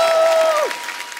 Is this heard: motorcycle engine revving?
no